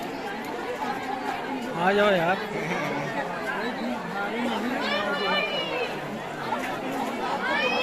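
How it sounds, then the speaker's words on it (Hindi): Crowd chatter fills a large Pasi community fair at a fort, a dense murmur of many voices nearby, with people talking close over it. "काफी भीड़ है यहाँ पे"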